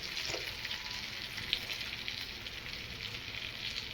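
Stuffed green chillies coated in gram flour frying slowly over a low flame, a steady, soft sizzle and crackle filling the whole stretch with one small pop near the middle.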